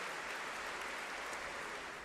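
A debate audience applauds in a dense, even wash of clapping that holds steady throughout, heard from a distance and fairly faint.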